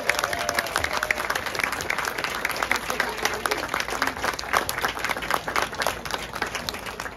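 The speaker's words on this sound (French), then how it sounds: "une grande main d'applaudissements pour nos sculpteurs" Crowd applauding the sculptors at the opening of the International Sculpture Symposium in Saint-Georges, Beauce, Quebec, with sustained, moderately distant clapping and distinct individual claps throughout.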